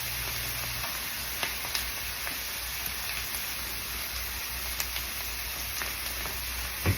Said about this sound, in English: So I'm just going to let these kind of continue to saute here.